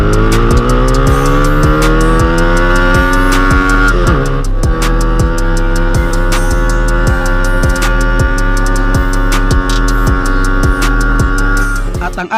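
A Sigma 250cc sportbike engine revving hard and loud up close, climbing in pitch through one gear, briefly dropping at a shift, then winding up again in a strong, steady drone with a buzzy, pulsing exhaust note.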